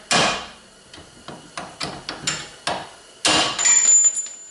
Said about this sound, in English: Going to whack that out with the hammer